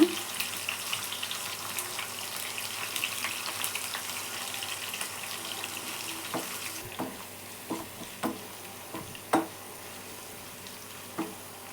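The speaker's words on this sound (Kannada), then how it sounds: "ಈರುಳ್ಳಿ ಸ್ವಲ್ಪ ಗೋಲ್ಡನ್ ಕಲರ್ ಬರೋವರೆಗೂ ಫ್ರೈ ಮಾಡ್ಕೊಳ್ಳೋಣ" Onions fry in a pan toward golden brown, a moderate steady sizzle that thins out halfway, followed by several sharp utensil clinks and stirring knocks.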